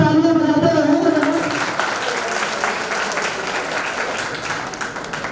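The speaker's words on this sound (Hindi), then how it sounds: "आप लोग तालियां बजाते रहे।" Audience applause at a cleanliness and safety event for the 2019 Kumbh Mela, a dense crowd clapping that is loud at first and then steadily thins and fades, with a voice briefly heard over the start.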